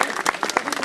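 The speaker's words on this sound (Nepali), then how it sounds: "ताली बजाउनुहोस्" A gathering at a yogi's discourse claps in a brief, brisk burst of crowded applause, close and fairly loud.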